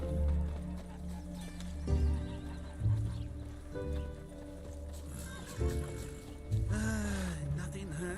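Hoofbeats of Roach, a horse in The Witcher 3: Wild Hunt, clip-clop steadily at a fast gait, up close and loud, with a whinny near the end and background music and game sounds underneath.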